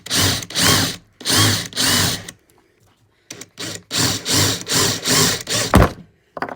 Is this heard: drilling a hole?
yes